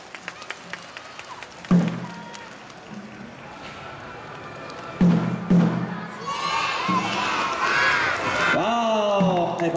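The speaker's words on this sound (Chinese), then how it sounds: "再给我们菊德堡幼儿园来一个热情掌声鼓励" A crowd claps and cheers for a kindergarten group performing at a lantern festival street parade, with sharp bursts of clapping, excited children shouting and a voice over an amplified, busy outdoor background.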